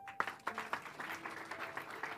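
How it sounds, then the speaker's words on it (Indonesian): An audience at a church sermon breaks into applause, a steady wash of many hands clapping at moderate distance with a few sharper individual claps near the start. "Beri tepuk tangan."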